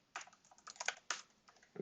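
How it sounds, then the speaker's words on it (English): Fast, irregular keystrokes on a computer keyboard during a programming and debugging session, clustered clicks with brief pauses, close and fairly quiet, with no talking. "I'm terrible at typing."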